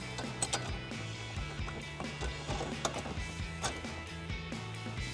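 Bolt on a Corsa oil catch can bracket for a 2014-2018 Silverado or Sierra 1500 tightened with a 13mm socket wrench, giving a steady run of fast, soft ratcheting clicks with a low background hum.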